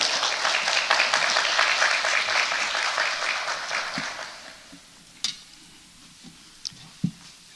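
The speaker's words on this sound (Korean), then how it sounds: "우리 박수로 환영하겠습니다" A church congregation applauds to welcome the pastor to the pulpit, a dense wash of many hands clapping that fades out after about four seconds, leaving a few isolated knocks and creaks in a quiet room.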